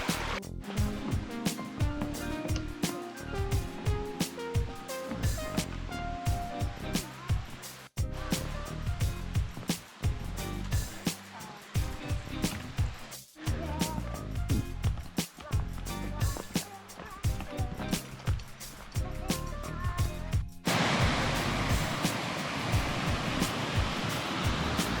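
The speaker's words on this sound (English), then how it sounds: "You've got like layers of the stream going down the rocks, pretty much just cascading down as it goes." A rocky mountain stream along the Blue Ridge Parkway cascades over layered stones below a bridge, a constant rushing wash of water heard close for the whole stretch.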